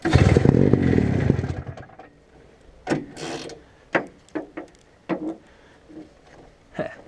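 A 1972 Ski-doo Oly 399 snowmobile engine cranks loudly for about two seconds with a rough mechanical clatter, then a series of separate recoil-starter pulls follows as sharp scraping ratchet bursts spaced about a second apart.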